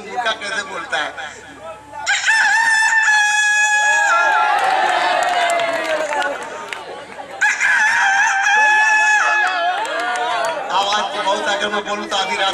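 A voice imitates a rooster, giving two long, drawn-out crows separated by a pause, with crowd chatter and talking around them at a mushaira poetry gathering.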